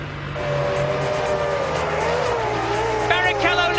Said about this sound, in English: Away well, Frentzen second, and Schumacher sprinting up alongside the two McLarens